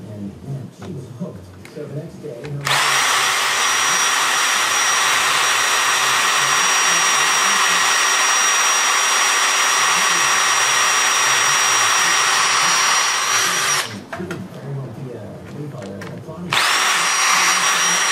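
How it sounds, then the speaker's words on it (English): A power drill bores out rivets on the top panel of a Corsair Obsidian computer case. A loud, close, high whine runs for about eleven seconds, stops briefly, then starts again. "So once you drill it, the top will come off, and then you just take a punch"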